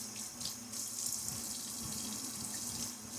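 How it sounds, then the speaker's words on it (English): Tap water runs steadily into a sink during a wet shave, splashing continuously at close range with no voices. "Splash of water."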